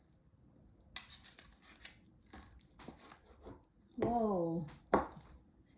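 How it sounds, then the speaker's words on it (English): Cooked octopus is snipped into pieces for a Portuguese-style octopus and shrimp salad. Several crisp, close cutting snaps come in an irregular sequence, and a voice exclaims briefly partway through. "So we have to cut the octopus"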